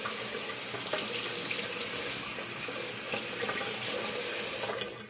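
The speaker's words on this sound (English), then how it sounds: "you get the water and you just make it soaking wet, the whole thing." Water runs steadily from a sink tap onto a soaking sponge-like mass of fake poop, a loud continuous splashing hiss that stops abruptly near the end.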